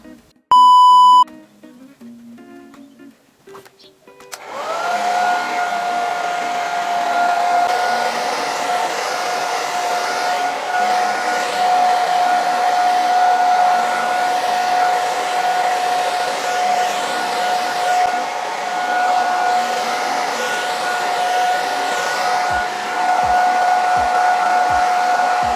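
A hair dryer running steadily on braided hair, a loud continuous whirring drone with a high whine that starts after a short beep and holds unbroken to the end, with no talking.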